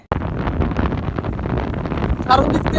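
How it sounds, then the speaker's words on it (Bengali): Gusty wind buffets across the open floodwater of Nikli Haor, Bangladesh, a steady low roar with rough fluctuations and a brief brighter swell near the end. "বাতাস আর বাতাস"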